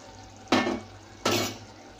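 Two brief scraping stirs sound as ground biryani masala is mixed into softened cooked vegetables in a handi pot, each stroke short and close against a quiet background.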